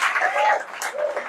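A church congregation claps together in a brief, steady patter of many hands, with voices mixed in beneath the applause.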